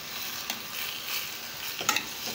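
Liver fries in a pan with a soft, even sizzle as it is stirred, a couple of louder scrapes or spatters near the end, fairly quiet and close.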